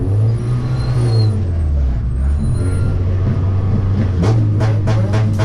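Touring race cars launch from a standing start, engines roaring loud and close with spinning tyres, a dense mechanical drone that dips and surges before several sharp bursts near the end.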